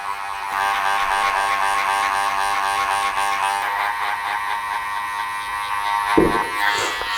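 Electric hair clippers buzz steadily and close up while cutting short hair in a British barbershop, with a brief thump near the end.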